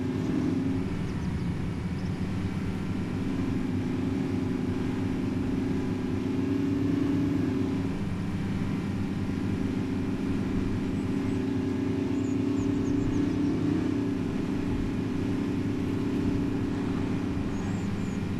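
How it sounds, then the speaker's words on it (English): A truck engine in the hunting video game Way of the Hunter 2 drones loudly and steadily throughout, a constant low rumble with a faint whine above it and no voices. "I know the truck is really loud"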